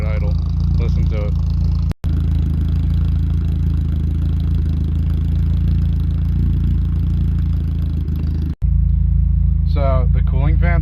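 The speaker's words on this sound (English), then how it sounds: "this thing literally sounds like a lawn tractor at idle. Listen to it." A Volkswagen engine idles with a steady, rough, lawn-tractor-like putter that runs loud and unbroken throughout, while a person speaks briefly over it at the start and end.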